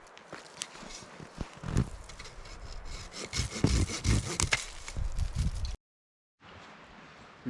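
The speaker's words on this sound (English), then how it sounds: "we need to cut a piece that works as our trigger mechanism" A saw cuts through a wooden tree limb outdoors with rough, rasping back-and-forth strokes, loud and close. The sawing runs for several seconds, breaks off briefly, then starts again.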